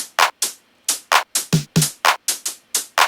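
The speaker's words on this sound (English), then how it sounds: "in this one I used the 707 kit" A simple electronic drum pattern from a Roland TR-707 drum machine kit, with sharp, dry hits in a steady groove, mixing claps, snare and hi-hat, playing alone.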